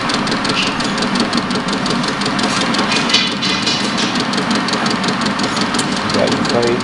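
Metal lathe turning a steel collet block at slow feed, a steady mechanical hum and grinding chatter with faint ticking, holding an even level throughout at close range.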